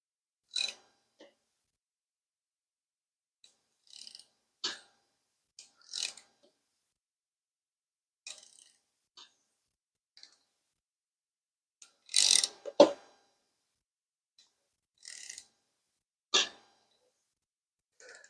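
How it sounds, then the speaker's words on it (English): A seized 1961 Cadillac 390 engine crank being turned over by hand, sparse scattered clicks and metallic clunks with long silences between, one louder knock in the middle, close and otherwise quiet. "you can see the crank moving"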